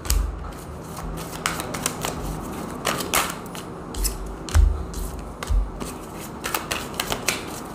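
Tarot cards being shuffled by hand produce a series of irregular crisp riffling and snapping bursts, close and fairly quiet, with short pauses between handfuls.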